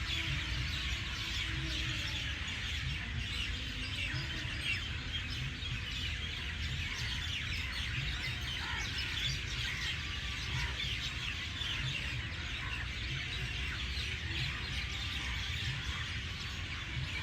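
Many birds chirp and sing together in a dense, steady outdoor chorus, with overlapping calls and tweets continuing without a break throughout.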